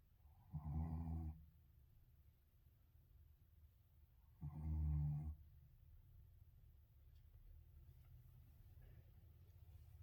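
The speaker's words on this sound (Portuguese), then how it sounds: "Eu tava filmando, você tava roncando." A Shih Tzu dog snoring, two slow, low snores several seconds apart, quiet and close, with faint room noise between them.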